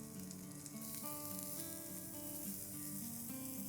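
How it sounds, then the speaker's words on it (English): Baby corn sautéing in a teaspoon of oil with minced garlic and a pinch of salt: a steady, dense sizzle with no break, heard near and alone. "I'm going to saute baby corn in this"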